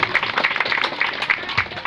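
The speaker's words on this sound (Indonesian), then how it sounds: "tepuk tangan" Supporters clap at a Malaysian political gathering for Datuk Ewon Ebin, a short burst of lively, rhythmic group clapping with distinct hand claps standing out close by.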